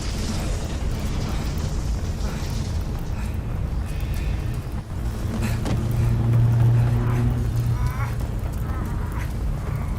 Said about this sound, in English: After the explosion knocks him on his ass, Bruce heads inside the boat